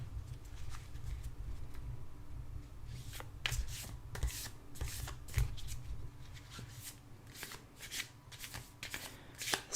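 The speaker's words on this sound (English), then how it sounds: "I'm going to lay down the cards." Tarot cards are laid down one by one in a quiet ASMR setting, giving soft papery slaps and shuffling taps in an irregular rhythm against a low background hum.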